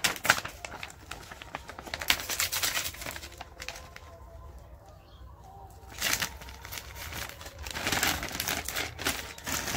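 Thin plastic bags, the kind used for packing children's toys, crinkle and rustle in bursts of handling, loud at the start and again after a quieter pause in the middle.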